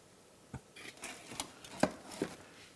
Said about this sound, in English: lay a piece of foil over the top so it doesn't get seen